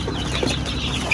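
Chickens and young chicks clucking on a Philippine poultry farm, a steady dense chorus of calls with a brief louder peep near the end and no voices over it.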